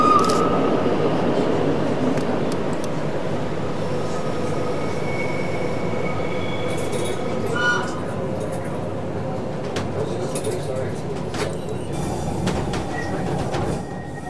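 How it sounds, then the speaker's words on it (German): Railcar train running on the Centovalli railway near the Intragna viaduct, a loud, steady rolling rumble with rhythmic wheel clatter and occasional high metallic squeals, continuous throughout. "Schon nach knapp 5 Kilometern erreicht der Triebwagenzug das erste Highlight der Strecke, das Viadukt bei Intragna."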